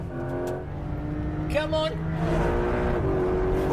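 A Porsche 911 accelerates hard through second gear, engine note rising steadily and loud from inside the car, with excited voices talking over it.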